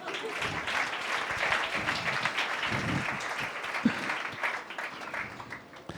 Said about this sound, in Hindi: एक दूसरे लिए जरा तालियां बजा दो